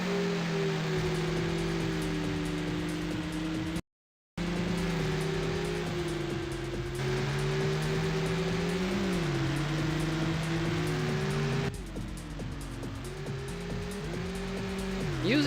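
Car engines in the MS-DOS racing game Screamer 2 drone steadily and loudly, their pitch rising and falling with revving and gear changes, broken by one short dropout, with no talking over them.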